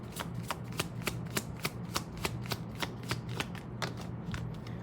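A deck of tarot cards being shuffled, a rapid series of crisp, evenly spaced riffling snaps, close and clear, with no talk.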